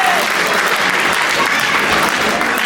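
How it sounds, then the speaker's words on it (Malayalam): An audience at a Vishu festival feast claps loudly and steadily, a dense continuous wash of many hands close by with faint crowd murmur underneath. "ഒരു നല്ല കയ്യടി നമ്മുടെ പഴയ"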